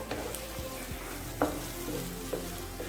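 Sweet potato roasting in a pan over a low flame, a close, even sizzle with a few scrapes and taps of stirring, no voices.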